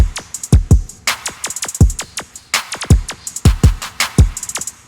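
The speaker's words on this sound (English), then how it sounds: "there's some yapping sounds that I used instead of counter snares and percussions." A trap-style yandere beat where short yapping animal-like sounds take the place of snares and percussion, landing in a quick syncopated pattern over deep booming kicks and bright hi-hat ticks, loud and close with no talking.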